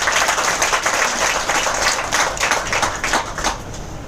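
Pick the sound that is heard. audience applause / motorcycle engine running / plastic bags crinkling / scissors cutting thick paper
audience applause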